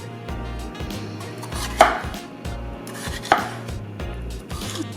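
A knife cuts red and yellow bell peppers into wedges on a cutting board, giving a series of close, rhythmic thuds with two sharper, louder chops along the way.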